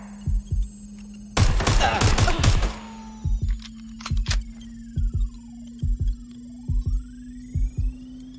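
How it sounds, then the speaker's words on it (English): Gunfire in the video game Watch Dogs: Legion: a dense burst of shots, followed by sparse evenly spaced paired thuds under a steady electronic hum. "I'm getting shot at here!"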